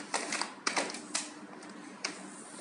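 Sharp plastic clicks and snaps come from a forBaby 2000 stroller as it is taken apart, in a quick irregular cluster of several close knocks, then one more a moment later, with no talk.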